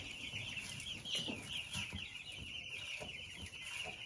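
Meat chickens in a brooder cage cluck and chirp steadily at close range over a constant high-pitched background hum, with no talking.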